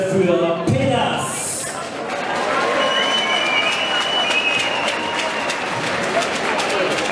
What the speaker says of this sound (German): Riesenfetter Applaus bitte